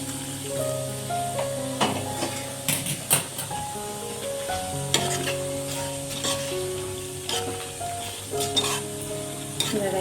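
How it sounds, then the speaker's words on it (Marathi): Sizzling masala capsicum in a hot pan with stirring and utensil clinks, a crackling burst as hot water hits the pan, moderately close and no speech. "आता याच्यामध्ये मी गरम पानी घाते"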